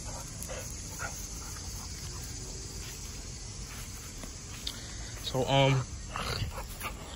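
Pitbull, about three years old, playing fetch outdoors, with scattered soft movement and a brief bark-like burst near the end, heard faintly under someone talking and calling the dog.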